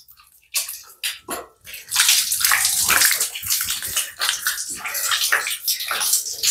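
Tap water runs through an Aquaguard bathroom water softener, first in short splashing bursts, then as a loud, steady gushing hiss close by.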